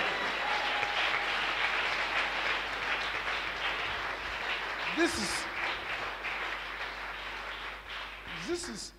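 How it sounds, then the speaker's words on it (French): Church congregation clapping at a bilingual Sunday worship service, a dense steady wash of applause filling the room throughout, with brief voices rising above it. "give God a big clap"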